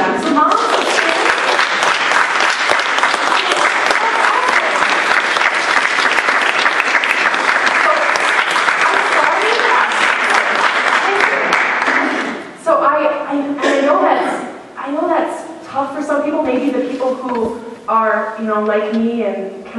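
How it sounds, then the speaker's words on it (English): An audience at a Mother's Day concert of prayer applauds the mothers with loud, steady clapping for about twelve seconds, then the applause thins and a voice speaks over the last scattered claps. "let's have the mothers stand and give them a round of applause"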